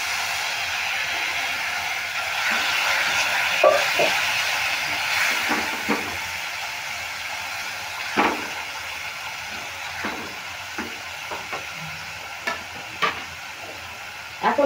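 Spice paste for a grated potol (pointed gourd) singara filling stir-fried in a pan, a steady close sizzle broken by repeated scraping and stirring clacks of the spatula, with no talk.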